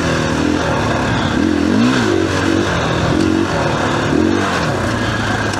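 A 2021 KTM 500 EXC-F dirt bike ridden steadily, its engine droning close and loud with repeated rising and falling throttle swells.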